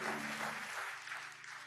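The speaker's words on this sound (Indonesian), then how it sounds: "Beri tepuk tangan buat Tuhan kita" A congregation at an evening prayer service in a church applauds, a dense, faint wash of clapping filling the short stretch and tapering slightly toward the end.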